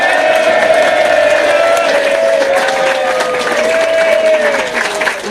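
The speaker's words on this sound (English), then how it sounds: "Can I have a round of applause separately from me for the lovely pianist, Mr John Bruzon?" Enthusiastic audience applause and some cheering for pianist John Bruzon at a live show at Legends, loud and continuous, with a sustained melodic tone ringing over the clapping.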